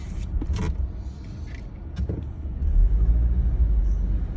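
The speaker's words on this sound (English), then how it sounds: "Giving it a lot of gas. Traction control's going crazy." Jeep Wrangler JL engine revving hard while stuck, traction control cutting in, a low rumbling drone with brief surges that grows louder and steadier toward the end, with no talk.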